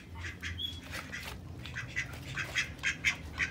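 Cayuga ducks quacking in a backyard pen: a steady run of nasal, repeated quacks from several birds close by, growing louder and more insistent toward the end.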